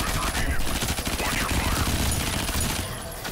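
Rapid gunfire from an FPS video game rattles on steadily and loudly for the whole stretch, dense bursts like a fusillade, with a voice faintly present underneath.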